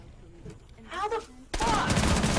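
Gunfire in Rainbow Six Siege: a loud burst of rapid shots erupts about halfway through and keeps going to the end, with a player talking over the quieter stretch before it.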